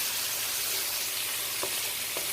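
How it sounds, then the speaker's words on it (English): Potatoes frying in a pan for a sausage and potato breakfast are stirred, giving a steady, dense sizzle throughout with a couple of faint scraping scoops near the end and no talking. "stir up your potatoes just so you can get all the bits and pieces from the bottom"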